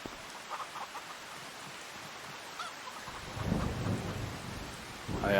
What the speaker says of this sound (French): Allez, un petit peu d'orage.